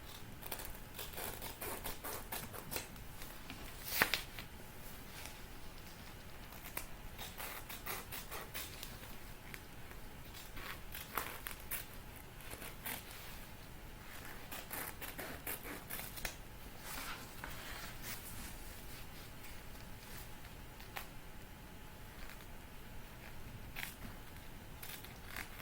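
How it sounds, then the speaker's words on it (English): Micro-serrated scissors cut foam-lined fabric around curves for a handbag, making a faint, continuous crisp snipping and crackling close by with small irregular clicks. No one speaks. "My scissors are got these micro serrated edges, so it does catch on the foam sometimes"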